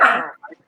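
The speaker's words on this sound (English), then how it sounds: "Sorry about the dog." A dog in a home kitchen gives one loud, close bark that fades out, then a short, quieter yip follows.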